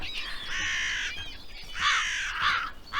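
Crows cawing loudly nearby in a series of harsh, drawn-out calls, roughly four caws in quick succession with brief gaps between them.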